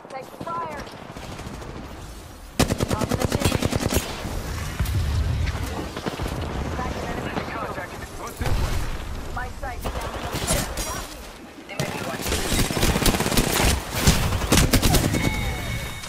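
Gunfire from the Halo video game crackles in repeated automatic bursts and scattered shots, loud and close, with a voice talking over parts of it.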